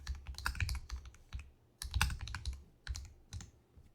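Quick bursts of typing on a computer keyboard while a function for hitbox types is named in Unreal Engine, clicking keys in clustered runs with short pauses, close and fairly soft.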